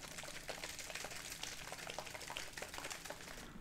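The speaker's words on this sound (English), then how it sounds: "So I'm gonna swirl it from side to side to get all of that Nuvo mousse incorporated with that water" A spray bottle holding Nuvo mousse and water is shaken and swirled side to side, giving a steady, busy liquid sloshing and rattling close up that runs continuously without talk.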